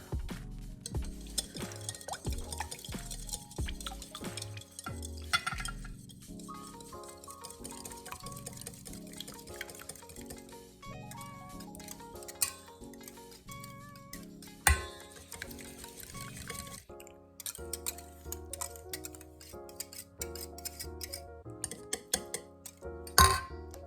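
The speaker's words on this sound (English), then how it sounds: "I'm gonna whisk as I pour in the buttermilk" A whisk stirs red velvet cupcake batter while buttermilk is poured in. The bowl gives off steady clinking and sloshing, with soft plops and drips over a long stretch and no speech.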